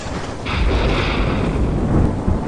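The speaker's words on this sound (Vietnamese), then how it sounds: "sấm sét nổ vang trời" Loud thunder in an animated cartoon storm with heavy rain makes a deep, rolling rumble that swells and keeps grumbling without a break; no one speaks.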